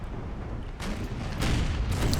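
Ship cannons firing round shot in a naval battle in Empire: Total War, with a few booming blasts rumbling over low battle noise, loud and fairly near.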